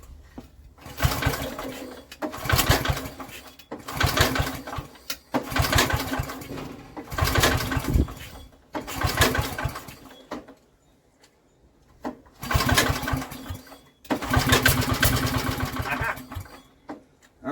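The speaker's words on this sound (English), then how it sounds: "We'll give this a pull, see if she starts." Old Briggs and Stratton generator engine, fitted with a Chinese carburetor, being pull-started: about eight close, loud bursts of rattling cranking and sputtering, each lasting a second or two with short pauses between.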